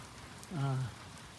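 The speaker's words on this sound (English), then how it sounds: "Overcast, raining, not very hard." Rain falls steadily outside under an overcast sky as a soft, quiet hiss, with a brief tonal sound rising out of it midway.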